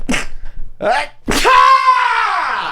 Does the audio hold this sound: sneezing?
yes